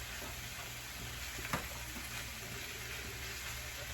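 Sausage and vegetables sauteing in a pan over raised heat, a faint steady sizzle and hiss throughout with one brief clink near the middle.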